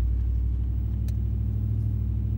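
Ram 1500 Hemi V8 with a Carven Competitor muffler, a steady deep exhaust rumble heard close while the truck cruises, with a brief click partway through.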